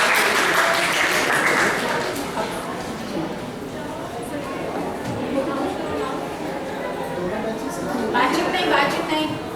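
Students at a college legal awareness program certificate ceremony applaud themselves, a dense crowd clapping that stays steady for several seconds and swells again near the end, with chatter mixed in.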